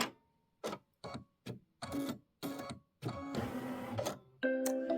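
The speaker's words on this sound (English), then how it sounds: "where it's stitching the little doorknob" An embroidery machine stitches a small doorknob detail on a holiday home tote, its needle running in quick mechanical bursts separated by brief pauses, then a longer continuous stretch of rapid stitching, close and fairly loud with no talking.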